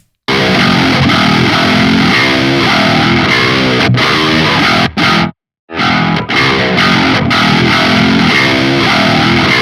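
Electric guitar with a mild, crunchy distortion plays chugging riffs, loud and steady, broken by a couple of brief sharp stops.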